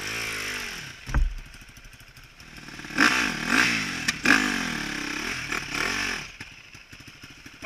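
Enduro motorcycles at an extreme enduro event, the Tancia Extreme festa, rev and accelerate in rising, wavering engine swells, some near and some farther off, with clattering and scraping between them.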